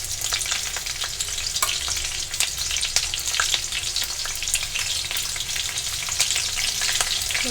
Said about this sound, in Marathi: मिरची चांगली भाजली की बटाटा देखील टाकून घेणार आहे